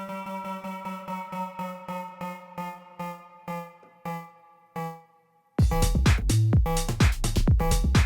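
A bright pluck synth steps through a repeating arpeggio whose notes speed up and then slow, each hit decaying, before a dense tech house loop with a heavy low end kicks in loud.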